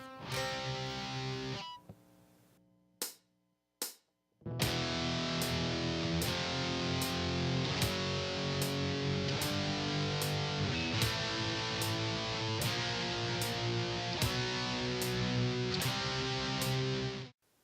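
Heavily distorted electric guitar playing metal power chords, a short phrase then brief stops, followed by a long run of evenly spaced chugging chord hits, loud and close with no talking.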